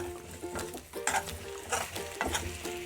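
Okra stirred in hot oil in a pan, crackling and sizzling steadily with bursts of scraping and frying noise as the spoon moves, close and fairly loud with no talk.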